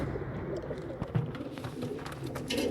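Zawajil pigeons kept in a loft in Mosul give soft low coos amid a busy background of other bird chirps, moderately close with a faint ambient hum.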